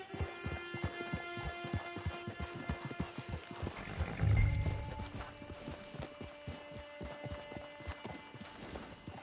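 Steady clip-clop of horse hooves at a walking pace over a low hum in Red Dead Redemption 2, with a brief louder thump partway through.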